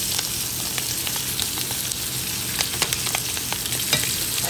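Fish fries in a smoking-hot pan on medium heat, a steady close sizzle with sharp pops and spatters crackling throughout, nobody speaking.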